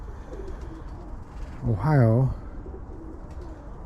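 Pigeons at a small winter pigeon show give one clear, loud rolling coo lasting about half a second, rising above steady low hall noise. Faint talk sits in the background.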